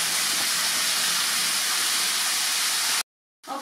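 Beef short ribs browning in a pan give off a steady, loud, hissing sizzle that runs for about three seconds, then cuts off abruptly before a faint return of the hiss.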